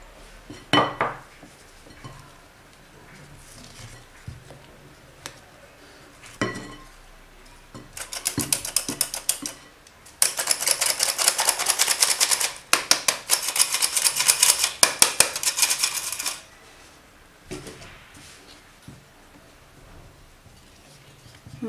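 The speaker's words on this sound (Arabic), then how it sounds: "نبداو نخلطوا مزيان حتى نشوفوا بان الدقيق ديالنا ممتزج مع المزيج ديالنا" Yogurt lemon cake batter with flour being whisked in a bowl, scattered taps at first, then bursts of rapid clinking and rattling of the whisk against the bowl, close and fairly loud, with no talking.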